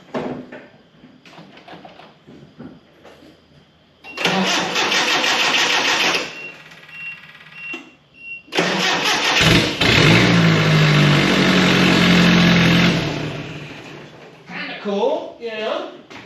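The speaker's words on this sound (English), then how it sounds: "it'll sit there and run and idle, that sort of thing, just super loud" A 1985 Nissan 720 4x4 pickup with its catalytic converter missing cranks, fires and settles into a very loud, rough idle. Quieter stretches come between bursts of engine roar, and a person talks nearby.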